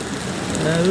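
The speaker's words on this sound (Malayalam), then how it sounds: "വേനൽ തണുപ്പ് വരാനായി ഈ മഴ നമുക്ക് വല്ലാത്തൊരു ആശ്വാസമാണ്" Summer rain falls in Malappuram as a dense, even patter and hiss on surfaces. It is close and continuous for a second, and a faint rising tone comes in near the end.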